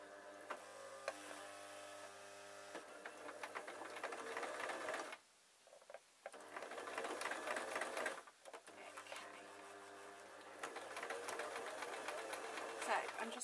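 Sewing machine stitching through several layers of a string bag, a fast whirring mechanical rattle that stops and restarts in bursts, close up, with a person talking over it.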